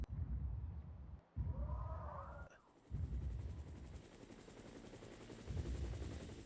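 A police helicopter sound effect from the Skyscrapers kids app, a steady low whirring rotor drone under a game setting where natural disasters strike, with a brief dip in the middle.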